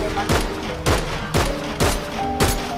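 Video game gunfire, five loud, sharp shots spaced roughly half a second apart, each with a punchy low boom and a brief decaying tail, over a busy game background.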